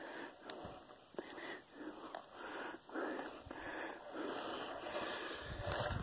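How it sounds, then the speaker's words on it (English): Heavy breathing close to the microphone: a rhythmic run of loud, wheezy huffs and sniffs repeating about every second, with no talking. "Sorry for the heavy breathing"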